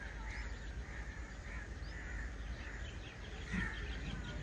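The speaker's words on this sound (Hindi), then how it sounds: "देखे ना, पंछी जो है अपने अपने घरों की तरफ रवां दवां है।" Crows cawing and other birds calling at dusk in a village, a steady chorus of distant caws and chirps over faint background noise, with a slightly louder call near the end.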